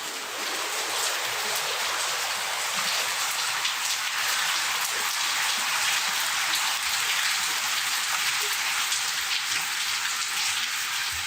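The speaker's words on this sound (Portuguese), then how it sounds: "É o som da chuva." Steady, dense rain patters evenly as a hissing wash of drops on surfaces, continuous and fairly loud with no voices.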